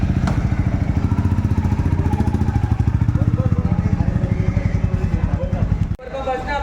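A motorcycle engine runs close by with a fast, even chugging pulse that stays loud for several seconds, then drops away abruptly near the end as quieter sounds take over.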